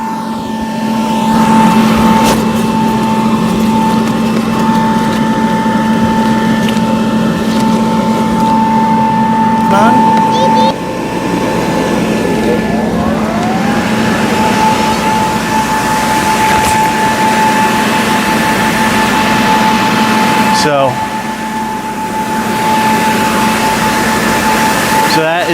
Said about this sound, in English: Let's set up the second blower.